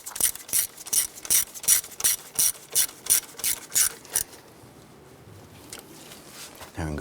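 A hand ratchet snugs down a fuel injector bolt on a 1994-2004 Chevy S10, about a dozen quick, evenly spaced clicks lasting roughly four seconds, close and crisp, then a quieter stretch of faint handling noise.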